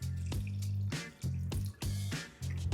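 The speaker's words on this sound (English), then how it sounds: "So now I'm going to add another cup of water to this" A cup of water poured into simmering curry gravy in a pot, giving a series of splashing pours over a low steady hum from the kitchen.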